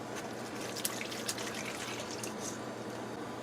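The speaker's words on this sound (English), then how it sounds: "Then you're gonna add a lot of water." Water pours steadily into a split pea powder mixture with saffron and salt for Trinidadian kurhi, a soft continuous splashing trickle with a few brighter drips, heard close and alone.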